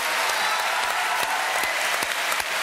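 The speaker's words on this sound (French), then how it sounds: "Applaudissements pour lui, mesdames, messieurs." Steady, dense clapping from a studio audience on a French TV talk show, loud and continuous throughout with a few sharper claps standing out, no voices over it.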